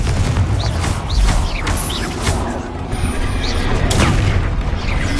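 Explosive spell blasts in a video game, a dense, continuous rumbling roar of booms and crashes with sharp whooshing effects on top, loud and steady for the whole stretch.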